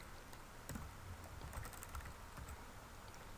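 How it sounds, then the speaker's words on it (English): Typing on a computer keyboard while entering a reference in MS Word: a soft run of scattered key taps at an uneven pace, faint and close over a steady background hiss, no voices. "So we type in the first person's name."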